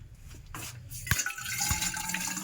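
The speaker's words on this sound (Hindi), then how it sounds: "गुनगुना पानी ले लेते हैं" Lukewarm water is poured at home, splashing and trickling steadily after a few clunks and knocks, fairly close.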